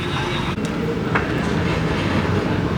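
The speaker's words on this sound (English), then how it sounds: "Here's an old style municipal SF railway. It's almost like a rail car." An old-style San Francisco municipal railway car rolls past near Fisherman's Wharf, a loud, steady rumble of wheels on rail with faint clatter and a brief squeal, heard outdoors up close.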